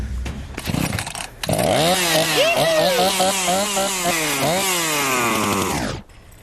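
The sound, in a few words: chainsaw engine running after starting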